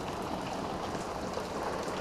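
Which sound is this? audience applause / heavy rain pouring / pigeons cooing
heavy rain pouring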